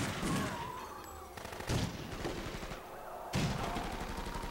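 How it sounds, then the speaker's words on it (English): Gunfire in the Driver 3 video game: three bursts of loud, rapid shots sound in quick succession, each a cluster of sharp cracks with brief ringing between, and no talk over them. "It's just a close-up of man shooting."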